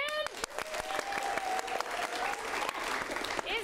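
Studio audience applauding for a film director at a live show, a steady wash of clapping throughout with a host's voice briefly audible over it.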